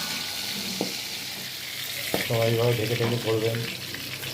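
Boal fish frying in hot oil in a covered pan, a steady sizzle with sharp pops and a burst of louder spattering near the middle, with a brief voice speaking over it.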